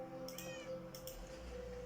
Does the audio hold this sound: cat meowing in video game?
yes